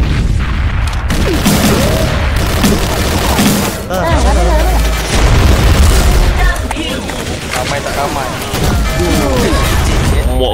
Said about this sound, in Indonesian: Allah, berapa biji bom.